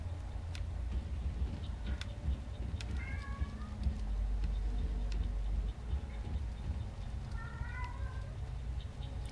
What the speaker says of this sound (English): He's just meowing over there.